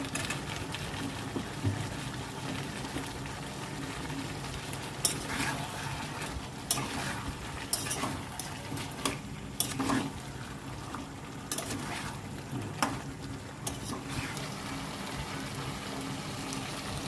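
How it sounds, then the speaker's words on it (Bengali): Fried potatoes and meat are sautéed together in a pan: a steady sizzle runs throughout, broken by irregular scraping clicks of stirring. "আলুটা দিয়ে একটু কষে নেব।"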